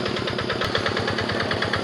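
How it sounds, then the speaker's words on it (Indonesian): A Yanmar TF65 hand tractor engine runs in a rice field, a loud, close, rapid steady chugging with an even rhythmic knock and no voices. "inilah Pak Ija, operator handal mesin traktor Yanmar TF65."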